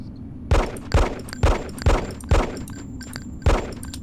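Gunfire at the training shooting range in the video game Hitman: Codename 47 (Romania training level): six evenly spaced loud shots about half a second apart, then a brief pause and one more, with no talk.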